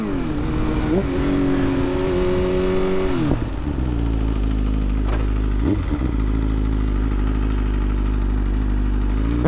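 BMW S1000RR sport motorcycle on a night ride, its engine loud and close throughout, revving in steady held notes with a sharp shift and drop partway, then settling into a deeper droning pull with brief throttle blips.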